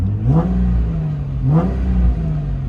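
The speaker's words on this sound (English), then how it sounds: "Car runs and idles and revs very smooth." Two quick revs of a Nissan GT-R engine rise sharply above a smooth idle, about a second apart, loud and close.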